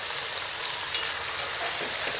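Meat fries in a heavy kazan for Uzbek plov, a steady bright hiss of hot oil with small pops and a brief sharp crackle partway through, close and unbroken.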